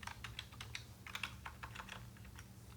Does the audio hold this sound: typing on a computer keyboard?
yes